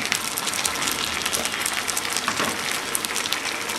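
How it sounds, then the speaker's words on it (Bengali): Ginger, cumin and garlic paste fries in hot oil with a dense, steady sizzle that crackles continuously throughout. "এবার সব কিছুকে আমি ভেজে নিব তেলের মধ্যে"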